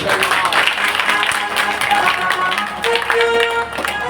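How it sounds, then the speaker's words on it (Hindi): Audience at a Rajasthani folk comedy and devotional song show clapping along, dense applause mixed with crowd noise and music throughout. "पसंद आए तो एक बार ताली बजा के"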